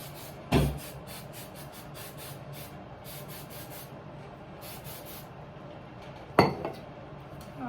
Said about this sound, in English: take your hairspray, cover your eyes like this, like a little visor at the angle, and spray your entire head